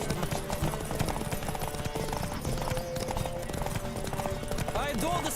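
Horse galloping in a race in The Witcher 3, rapid rhythmic hoofbeats clopping steadily up close, with a voice speaking over the hooves and a neigh near the end.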